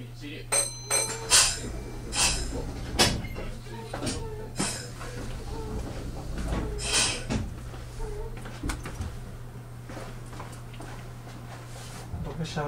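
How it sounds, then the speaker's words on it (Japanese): A Meitetsu limited express train bound for Toyohashi at Nagoya Station, its doors sliding shut with several thumps and clunks amid a steady electric hum and a recorded Japanese announcement. "ドアを閉めます、ご注意ください。"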